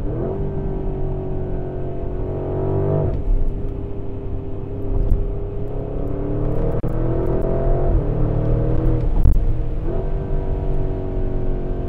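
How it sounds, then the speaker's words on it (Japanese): Porsche Cayenne Turbo GT SUV accelerating hard, its engine note rising loud and close through repeated gear shifts, with exhaust burbling and crackling between pulls; no talking. "すごい弾き出されるような、そしてバブリングがすごいバラバラいってます。"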